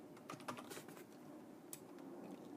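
Fingers typing on a computer keyboard, a quick run of light clicking keystrokes close by over a steady low room hum.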